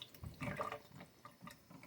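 Water seeps through a Berkey gravity water filter in quiet, irregular trickles and small drips, close by and faint.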